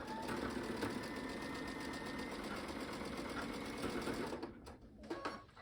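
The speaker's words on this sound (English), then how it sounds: "I'm flipping it over and sewing my 1/4 inch seam" A sewing machine stitches a quarter-inch seam on an Ohio Star quilt block, whirring steadily and close for several seconds before slowing and stopping with a few soft clicks.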